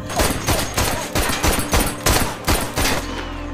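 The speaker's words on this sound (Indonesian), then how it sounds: "untuk pertama kalinya tembakan Luke meleset saat hendak membunuh anak kecil" Rapid bursts of gunfire from a film, several loud shots in quick irregular succession, close and sharp, with a low rumble continuing after.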